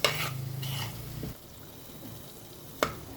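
Food frying and being stirred in a pan, with a low steady sizzle and a few brief scraping strokes of a spoon, quiet and close.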